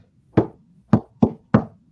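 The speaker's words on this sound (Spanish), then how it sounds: "Avanza guiado por el eco de los tambores." Drums echo through a dark passage, four loud, booming hits with a pause after the first and the rest coming in an uneven rhythm.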